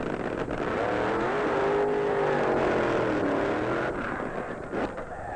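A supercharged nitro-fuel funny car roars down the drag strip at the 1972 NHRA World Finals, a loud, sustained engine blare that rises and falls in pitch before fading slightly at the end.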